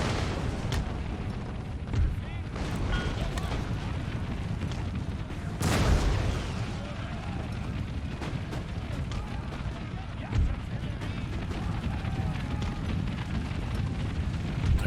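Massed musket volleys and artillery booms from troops in Empire: Total War, a dense battlefield roar of repeated bursts and distant explosions, with a few louder blasts standing out.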